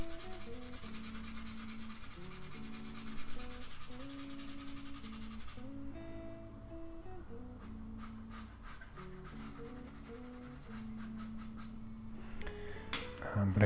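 A gray pastel pencil shades a puppy drawing on paper, with steady soft scratchy rubbing strokes repeating close up for over ten seconds, then brief sharper tapping strokes near the end, with no talking.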